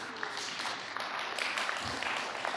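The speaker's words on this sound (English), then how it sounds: "Give yourselves a round of applause." An audience at a jazz event claps in a brief, moderately distant burst of applause that holds steady for a couple of seconds.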